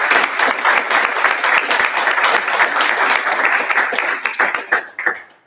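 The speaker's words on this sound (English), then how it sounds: "Everyone, round of applause for our speakers." An audience applauds speakers at a breathwork talk with a world-record free-diver, loud dense clapping that holds steady and then thins into a few scattered claps as it dies away.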